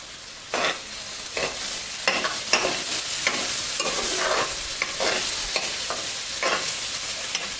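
Chopped onion sautéed in a pan with hing, a spatula scraping and tapping in irregular strokes over a steady close frying sizzle.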